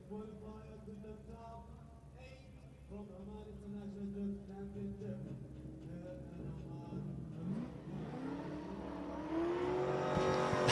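Drift cars at a round of the Oman International Drift Championship, engines droning and revving with shifting pitch, building to a loud, rising scream near the end, under a commentator's voice.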